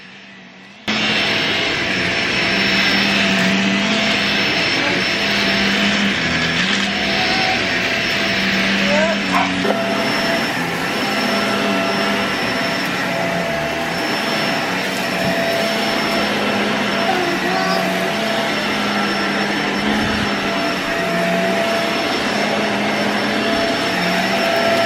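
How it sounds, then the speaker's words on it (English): A steady, loud vacuum cleaner drones continuously with a high whine, joined by occasional soft voices in the background. "he has a love-hate relationship with this vacuum"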